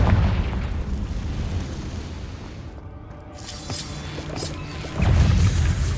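A Confringo blast spell explodes in Hogwarts Legacy, a loud booming burst with crackling debris, followed by a second heavy impact near the end amid continuous game ambience.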